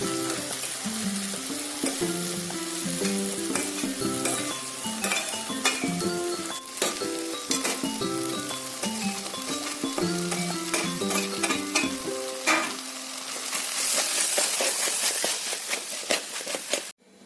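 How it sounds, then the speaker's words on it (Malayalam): A spoon stirs turmeric powder with garlic cloves, green chili and ginger in a hot pan for a Kerala-style chicken dish, giving a continuous sizzle with scraping and clinks of utensil against metal, set under steady background music. "ആവശ്യത്തിന് മഞ്ഞൾപ്പൊടി ചേർത്ത് കൊടുത്ത് ഇളക്കി കൊടുക്കാം"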